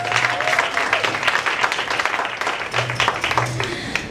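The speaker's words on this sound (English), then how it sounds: "let's give ourselves a round of applause for that" Audience applause at a poetry performance, a dense patter of clapping hands spread across the room, steady and fairly loud with some crowd noise mixed in.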